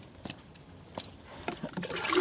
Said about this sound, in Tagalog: maligam-gam ng tubig